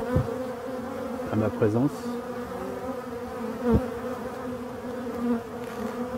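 Honeybees in late season flying around their hive on orientation flights, a steady close buzzing drone with individual bees zipping past, while a voice speaks briefly.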